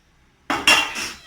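Asam pedas stew with stingray is stirred in a pot, giving two or three quick, close metallic clinks and scrapes of a utensil against the metal after a moment of silence.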